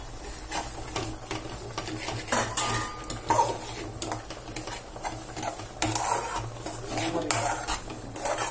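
Sesame seeds for nuvvula undalu are stirred in a pan: steady scraping and clinking of a utensil against metal with a faint sizzle underneath, continuous and close.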